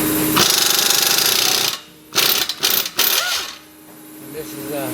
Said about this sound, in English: we're going to use a 3/8 impact gun to remove these two bottom strut bolts